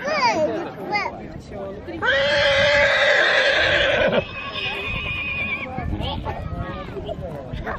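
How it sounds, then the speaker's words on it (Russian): A loose horse at an equestrian rally lets out a loud, close whinny lasting a couple of seconds, with soft hoof clip-clops and background voices before and after it. "Летит свободная лошадь."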